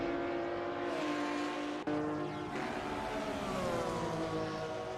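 Porsche race cars in a sim racing game at Kyalami run nose to tail, a loud continuous engine drone with shifting harmonic pitches and a brief dropout near two seconds, with no voices over it.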